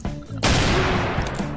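A single loud, close sniper rifle shot in Garry's Mod, a sudden blast followed by a sustained rumbling tail, after a brief quieter sound.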